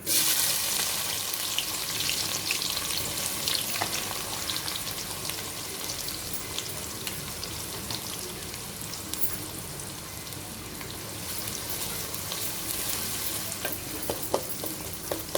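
A generous amount of onion fries in a pan until soft, with a continuous moderate sizzle and crackle, occasional stirring clinks and spatters, and no talking.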